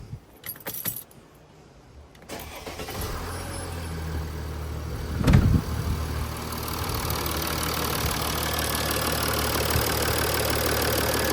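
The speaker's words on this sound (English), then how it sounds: "So we could just start the engine before we close everything, just to make sure everything sounds good and it's running" Keys jangle close by, then a 2012 Mercedes S350d V6 diesel cranks and settles into a steady, low, slightly knocking idle that holds evenly to the end.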